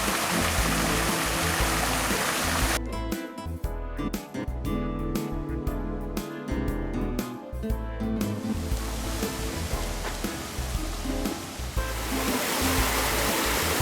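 Fountains at Peterhof near Saint Petersburg splash and rush in a steady, dense roar of falling water, loud and continuous, with a short stretch of shifting, irregular spray in the middle.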